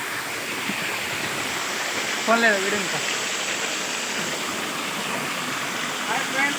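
Kurnool waterfall pours in a steady, full rush of broadband water noise, moderately loud and constant, with a brief voice speaking partway through.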